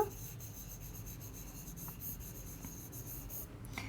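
A pen or pencil writes the word finished, giving a faint, soft scratching and rubbing that goes on for a few seconds in a quiet room.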